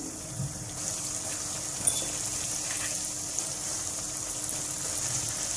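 Mango pieces with spices and salt sizzle steadily in a pan as a pickle cooks over low heat, with a soft continuous fry and a few small clinks, and no voices.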